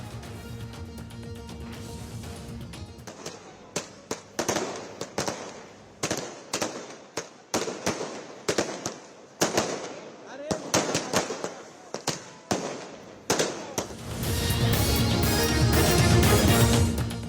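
Firecrackers burst in rapid, irregular bangs at a street celebration in Mumbai, some close and sharp, others clustered together, with crowd noise and rumble at the start and end.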